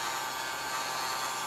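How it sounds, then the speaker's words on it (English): A mini hair dryer blows steadily while drying paint on a model base, a faint, even whirring hiss with no speech. "hair dryer, the mini hair dryer."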